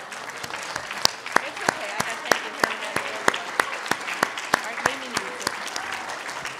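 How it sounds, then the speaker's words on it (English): A church congregation applauds fathers standing up, a sparse patter of claps with sharp individual strikes over a soft room murmur, steady and moderately near throughout. "I'd like you to stand up so we can give you a round of applause"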